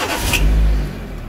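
A Renault Megane engine cranked with the key while the clutch is held down, a short starter whir catching into a low steady idle rumble, close and loud with no talking.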